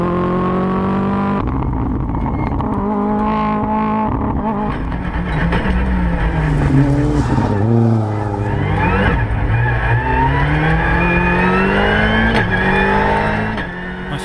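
A Ford Fiesta R5 rally car engine revs hard and loud throughout, climbing through gears with quick flat-shifted upshifts that barely interrupt the power, punctuated by pops and dips as the car drives close.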